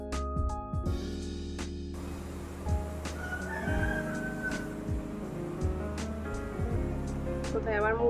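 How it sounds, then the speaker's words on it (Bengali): A hen or rooster calls out a few times near a Bengali home, with short clucking cries over steady household background noise and occasional talk. "কোথায় আবার মুরগি ডাকছে।"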